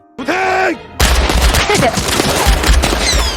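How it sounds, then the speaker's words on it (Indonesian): A sharp burst of rapid gunfire in an action film rings out loud and close, preceded by a short groaning voice, with repeated shots crackling through the rest. "siap memberondong Yuri dengan tembakan hingga inilah yang terjadi"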